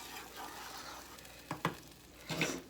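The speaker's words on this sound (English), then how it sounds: "I'm going to stir it" A spoon stirs bubbling toffee made with dark brown sugar for chocolate cracker bark, a soft simmering sizzle broken by a few scraping knocks against the pan, close up and quiet, with no talking.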